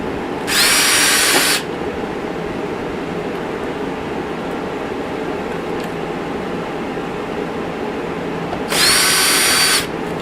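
A power drill drives screws for a wall shelf bracket in two short, loud bursts, one near the start and one near the end, separated by quiet room hiss.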